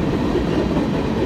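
A train roars past at close range, loud and continuous, with a dense rumble and no pause over the brief moment.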